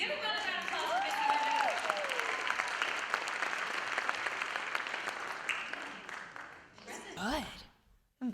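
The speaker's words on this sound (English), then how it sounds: "Give her another round of applause" An audience at a pageant gives a singer sustained applause, a dense wash of clapping that continues under a voice speaking, then fades out near the end.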